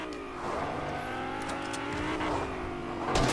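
A car driving in the video game Fortnite gives off an engine drone that builds and revs, rising toward a louder burst at the end, alone without talk.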